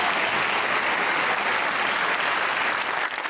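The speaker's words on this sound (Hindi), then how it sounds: "ताली होनी चाहिए ऐदर के लिए" Studio audience on a Pakistani comedy talk show clapping steadily, a dense, even burst of applause that fills the whole moment before tapering slightly at the end.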